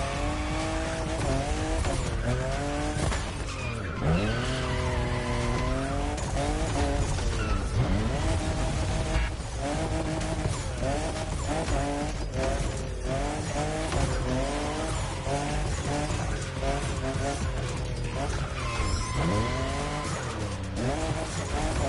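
A Toyota Supra drifting in the racing game The Crew Motorfest: a loud, continuous engine roar that rises and falls with the revs, joined by long tire squeals under a dense, unbroken wash of sound.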